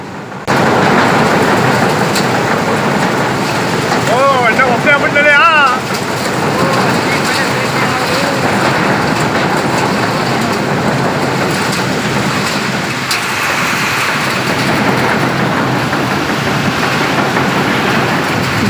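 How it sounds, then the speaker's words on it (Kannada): Strong wind roars through a village during a rainstorm, a loud, steady broadband rush with rain noise that holds throughout; a brief voice is faintly heard near the middle. "ನೋಡಿ ಎಷ್ಟು ಜೋರು ಗಾಳಿ ಬರ್ತಿದೆ"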